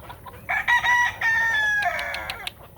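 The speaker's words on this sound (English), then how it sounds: "I have another rooster that looks just like him named Glimmer, which is right there" A Cream Legbar rooster with a rose comb lets out one loud, close crow, a stretched harmonic call that rises, holds and then breaks into a rougher, falling ending, with no other voices around it.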